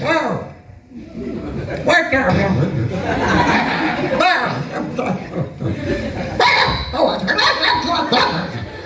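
A comedian on stage in a Pakistani Punjabi comedy program imitates a dog barking with his voice, yips and bow-wows mixed into his talk while the audience chuckles and laughs throughout.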